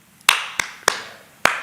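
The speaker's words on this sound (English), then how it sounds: "You clap your hands in front of the deities" Four sharp, distinct hand claps ring out close and loud at uneven intervals, each followed by a short room echo.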